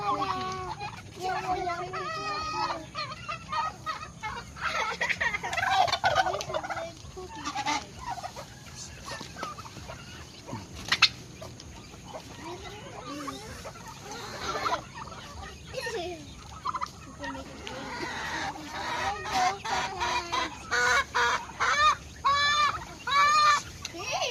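A blind chicken clucks in a backyard in short, irregular bursts of throaty calls, with other fowl calling nearby over about twenty-four seconds, and faint voices now and then.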